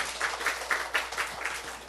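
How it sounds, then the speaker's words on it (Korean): Faint, brief round of clapping from a church congregation, a few sparse rhythmic claps heard at a distance. "우리 하나님께 박수 올려드려요."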